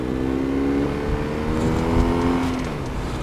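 BMW R1250RS motorcycle engine while riding, a steady droning hum with harmonic tones that shift in pitch as the bike moves, heard close and continuous with wind noise and no talk.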